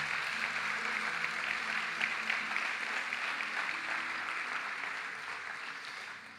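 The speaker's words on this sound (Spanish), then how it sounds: "Le podemos dar un aplauso bien fuerte a la palabra del Señor." A church congregation gives loud, sustained applause after a scripture reading, a dense, steady roar of many clapping hands that holds level and only begins to fade at the very end.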